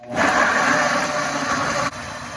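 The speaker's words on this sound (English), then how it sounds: "we're going to blend that at a high speed until it is smooth and creamy" A high-speed Vitamix blender whirs loudly and steadily as it purees gazpacho with olive oil, the motor holding a constant roar before a brief dip near the end.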